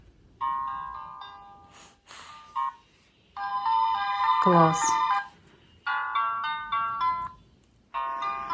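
An electronic baby toy plays bright, beeping tune snippets in short bursts, switching between melodies as its buttons are pressed, with someone speaking briefly between them and a low slide of tones in the middle.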